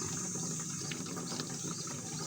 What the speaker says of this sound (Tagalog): Lakas ang tulo ng tubig.